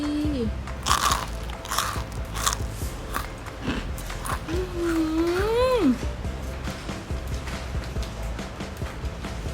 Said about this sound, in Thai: เดี๋ยวลองชิมกันเลยนะคะ